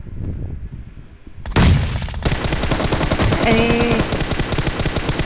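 Rapid automatic gunfire in a multiplayer shooting video game, a loud, dense fusillade of shots that bursts in after a quieter opening and continues steadily, with a brief voice exclamation over it.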